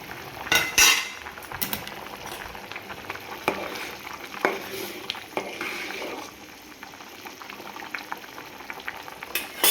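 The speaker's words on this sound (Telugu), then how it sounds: "రైస్ని ఉడికించుకుందాం." Rice for bagara rice boils in a covered pot with a continuous close bubbling, broken by several sharp clinks of a utensil against the pot.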